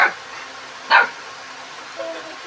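Two short, high-pitched yaps from golden retriever puppies nearby, about a second apart, followed by a fainter third yelp.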